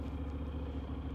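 A Honda NC750X motorcycle engine runs steadily at a low, even idle, close by with no talk over it.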